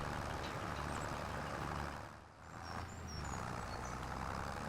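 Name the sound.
weak tractor engine in Farming Simulator 25 video game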